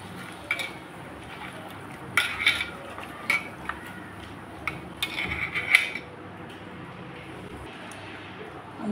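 Fish being mixed with salt and turmeric in a bowl by hand, producing scattered soft clinks and scrapes of a spoon and dish at close range against a quiet kitchen background.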